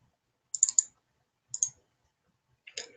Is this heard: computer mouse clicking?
yes